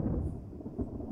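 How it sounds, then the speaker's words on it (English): Ominous thunder in the video game Resident Evil HD, a brief low rumble that rolls quietly in the distance with nothing else over it. "Ominous thunder."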